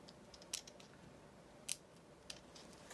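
Scissors trim the excess edge off a paper journal pocket, giving a few quiet, crisp snips, close and isolated against a near-silent room.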